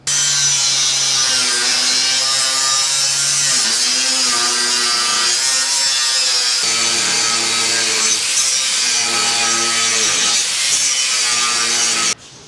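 A tool cuts a piece off during field bin repair work, producing a loud, steady drone whose pitch dips and recovers in several strokes under load, with no talking, before stopping abruptly at the end.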